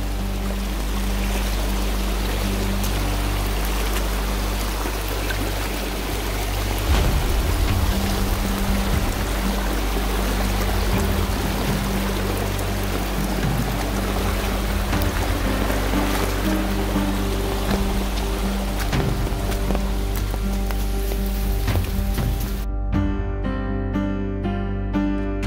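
A hiker in rain gear wades through water on the Appalachian Trail in the 100 Mile Wilderness, with loud, continuous rushing and splashing water filling the whole stretch.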